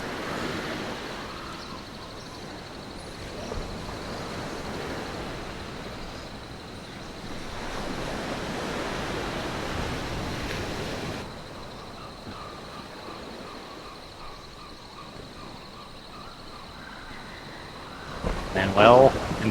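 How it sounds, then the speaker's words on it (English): Ocean surf washing onto a beach at Manuel Antonio National Park, Costa Rica, a steady broad rush that swells and eases over the whole stretch, with wind buffeting the microphone and a few brief thumps near the end. "Ooh, just missed the waves."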